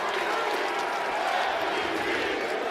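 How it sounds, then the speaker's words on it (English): A basketball arena crowd on its feet applauding at a Timberwolves game, a steady, dense wash of clapping and cheering noise that fills the whole stretch without a break. "Crowd on its feet applauding the effort here."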